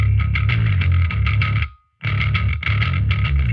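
Heavy distorted bass guitar through a Line 6 Helix with EQ and processing engaged chugs a loud, steady riff, breaking off briefly before resuming, sounding deeper and tighter.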